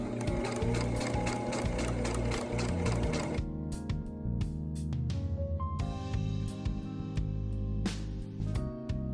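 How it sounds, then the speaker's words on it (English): Sewing machine stitching vest fabric, a fast rattling run of stitches that stops abruptly, followed by scattered clicks and mechanical knocks of the machine, close and loud with no talking. "And you just start sewing."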